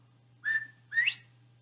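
A two-note whistled imitation of a bobwhite quail: a level note followed by a sharply rising one, alone over a soft background hum.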